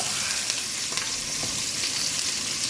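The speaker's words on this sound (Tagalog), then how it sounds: "Nagisa na tayo ng bawang, sibuyas at luya" Garlic, onion and ginger sauté in a hot pan with a steady, loud sizzle and faint stirring scrapes throughout, no voices.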